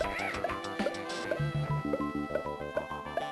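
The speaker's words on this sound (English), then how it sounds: "Squawks makes a weird noise when it takes damage." Game music from Donkey Kong Country 2 on the GBA plays steadily, with the parrot Squawks' damage noise, a weird chittering cough, mixed among short bright chirps over the backing track.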